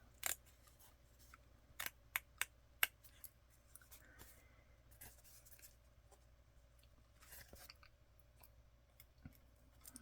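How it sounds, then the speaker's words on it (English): Scissors snip through a bit of lace trimmed away during sewing, giving several crisp, close cutting clicks in a quick cluster followed by quieter rustling and small handling noises in a hushed room. "Just trim this bit of lace off here."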